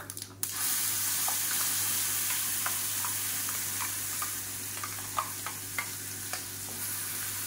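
Ground chutney with a pinch of asafoetida sizzles and simmers gently in a pan while a spoon stirs it, giving steady frying hiss broken by light scraping clicks, close up and without voices.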